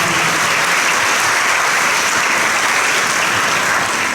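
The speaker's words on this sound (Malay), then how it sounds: "Bagi tepukan gemuruh kepada semua." Sustained, dense applause fills a school event hall, loud and even from start to finish, with no voices over it.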